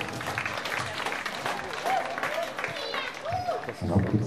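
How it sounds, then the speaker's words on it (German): Steady crowd applause at a show jumping competition fills the space, dense clapping throughout with a voice talking over it near the end. "Applaus für Queen Bee Green, Pia"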